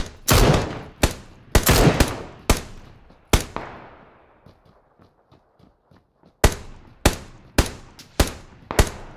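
Bursts of gunfire in a battle royale video game ring out as sharp, loud cracks in uneven clusters, with a quieter stretch of distant, faint shots in the middle before close rapid fire resumes.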